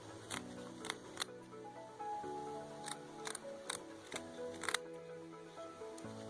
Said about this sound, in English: And then just go cut the backing.